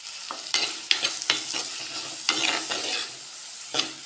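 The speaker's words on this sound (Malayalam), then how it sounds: "മൂന്ന് ടേബിൾ സ്പൂൺ എണ്ണയിലേക്ക് എണ്ണ ചൂടായപ്പോൾ ഒരു വലിയ സവോള കട്ട് ചെയ്തിട്ടിരിക്കുകയാണ്" Sliced large onion goes into three tablespoons of hot oil for a roasted-coconut chicken curry, sizzling steadily while a spoon stirs it with repeated scraping strokes, close and fairly loud, with no one talking.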